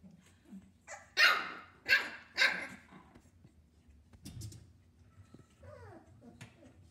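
Several 3.5-week-old puppies let out a handful of high yips and barks in bursts, with quieter whimpers and squeaks in between, close by in a kennel space.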